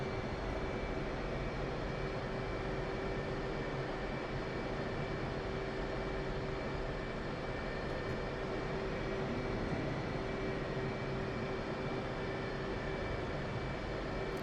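An F/A-18 jet in the DCS combat flight simulator, engines roaring at a steady, loud drone with a constant tonal whine, holding level throughout without a break.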